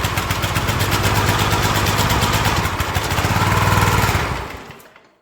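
A small gas engine on shop equipment, with a carburetor worsened by long sitting, runs steadily and loudly with a fast pulsing rumble for about four seconds, then dies away as it shuts off.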